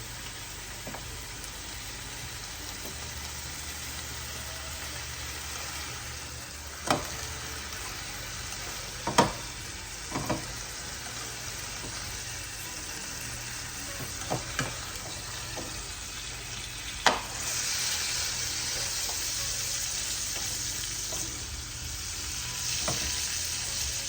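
Tri-tip steak sizzles steadily in a hot pan with butter, a dense crackling hiss running throughout with a few sharper pops and utensil clicks, growing a little louder near the end, with no voices.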